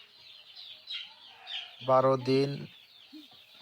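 Native chickens clucking on a small farm, a short burst of close, loud clucks in the middle, with someone talking softly before it and quieter bird chirps around.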